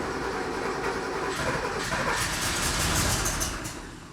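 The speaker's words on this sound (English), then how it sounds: "It cranks!" An old, abandoned Porsche 911 engine cranks over with a steady, rapid chugging churn, loud and close, building slightly before easing off, with no voices over it.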